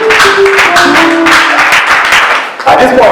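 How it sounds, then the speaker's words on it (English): Audience applause at a church awards event honouring a prophet, dense and loud clapping filling the room throughout, with a brief dip near the end before it surges again. "A round of applause for God in his life."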